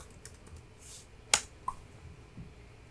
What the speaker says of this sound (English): Okay, so maybe I'll just type /start here.